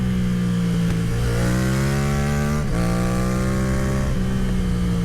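A Yamaha MT-07 motorcycle engine revs up steadily, its pitch climbing through the gears with a brief dip at a shift, loud and close throughout.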